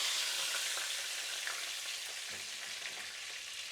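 Chicken fried steak frying in a pan, giving a steady close sizzle and hiss of hot oil from start to finish, with no talking.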